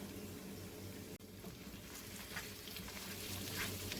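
A sloppy joe mixture with ketchup and tomato paste sizzles steadily in a pan while being stirred, a continuous low bubbling and frying hiss with soft scraping motions throughout.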